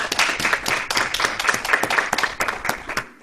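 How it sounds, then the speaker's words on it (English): A small congregation claps for the reverend at a Sunday church service, separate hand claps loud and close, uneven but thick, thinning out near the end. "Let's give her a round of applause."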